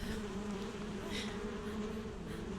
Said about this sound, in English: Buzzy bees.